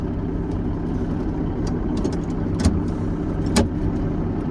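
A John Deere 8630 tractor with a swapped-in Cummins Big Cam diesel engine runs at a steady throttle, a constant low engine drone with faint clicks and no talking.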